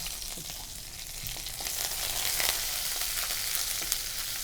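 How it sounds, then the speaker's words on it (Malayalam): Curry leaves and dried red chillies splutter in hot oil for a Kerala dish, a loud, steady hiss broken by crackles and small pops. "കറി ലീവ്സ് ഏകദേശം പൊട്ടിയിട്ടുണ്ട്"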